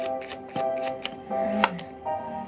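Oracle cards are shuffled and picked by hand, giving quick crisp riffling bursts with soft slaps between them, close and clear. No one speaks.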